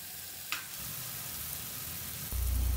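Vegetable pieces frying in oil in a pan, a quiet steady sizzle with a sharp clink partway, then a louder low hum near the end.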